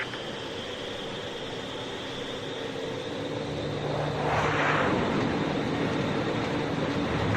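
Fighter jets launching from an aircraft carrier flight deck in the Ace Combat 5 video game: a steady, loud engine roar swelling into a brief rushing surge midway, then holding, with no talk.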